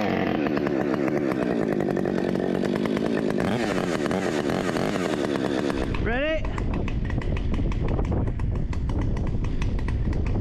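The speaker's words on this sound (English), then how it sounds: "Husky chainsaw" A ported Husqvarna 562 chainsaw with a 20-inch bar cuts into a big fir being removed, loud and close, revving steadily then dropping to a rougher idle sputter near the end.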